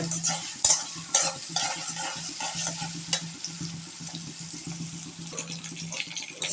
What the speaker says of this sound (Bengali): পিসগুলো ভেজে নিচ্ছে